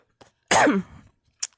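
A single sharp cough, close and loud, followed by a short throat-clearing sound and a faint breath.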